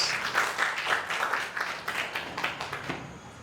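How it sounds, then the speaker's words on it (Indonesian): An audience claps after a student's reflection in a classroom setting, a short, fairly faint patter of mixed hand claps that thins out toward the end. "kita beri aplaus"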